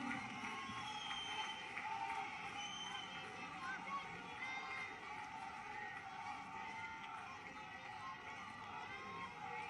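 Applause and cheering from a large outdoor rally crowd for Prime Minister Narendra Modi in Una, Himachal Pradesh, a steady dense roar held at a fairly distant, even level throughout.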